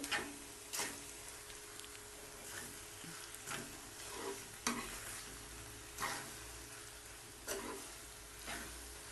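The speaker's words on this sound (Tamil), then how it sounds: "பாயில் பண்ண பாஸ்தா போட்டு நல்லா மிக்ஸ் பண்ணி விட்டுற வேண்டியதான்" Boiled pasta being mixed in a pan of vegetable sauce, a soft steady sizzle with a handful of sharp spatula scrapes spaced a second or two apart, faint and close, no talk.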